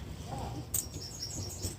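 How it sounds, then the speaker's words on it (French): Small birds chirp faintly outdoors during an open-air meal, with a few thin, high tweets scattered over quiet background ambience. "Entendez-vous les petits oiseaux?"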